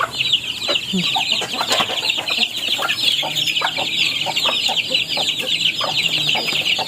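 Pet ducklings on a small farm keep up a dense, continuous chorus of high, rapid peeping, close and fairly loud, with no voices over it.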